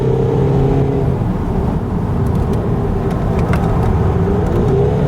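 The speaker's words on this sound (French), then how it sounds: "Et le TDI il ronfle à mort" A Skoda Superb 2.0 TDI diesel engine drones steadily and loudly, a constant low roar as the car accelerates under power, with faint clicks near the end.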